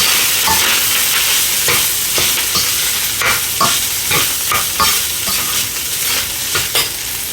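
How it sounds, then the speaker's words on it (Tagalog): Cooked rice fries in oil in a wok, with steady sizzling broken by repeated sharp scrapes and clatters of a spatula stirring and tossing it. "Okay na yung ating kanin na na-fry na natin."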